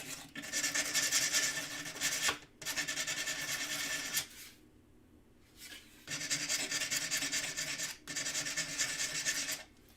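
A hand file rasps back and forth over the sharp edges of a small metal piece for cold-connection jewelry making, in steady stroking runs broken by short pauses, close and fairly loud.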